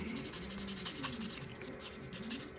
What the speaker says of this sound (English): So the last thing we can do is just come in with the buffer polisher.